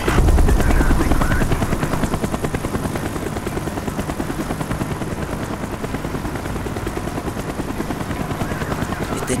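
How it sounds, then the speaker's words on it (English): A helicopter circling overhead in the Call of Duty Black Ops video game campaign, a loud, steady rotor chop thumping rapidly throughout, strongest at the start, with faint gunfire and muffled voices mixed in. "The chopper is coming around again."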